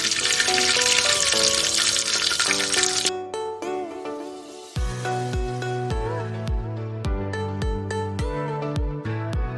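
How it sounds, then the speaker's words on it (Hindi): Cumin seeds fry in hot oil as the base for a kofta masala, a bright, loud sizzle for about three seconds before tonal music takes over. "हम लोग जीरा फ्राई करेंगे इसका कोफ्तों का मसाला बनाने के लिए"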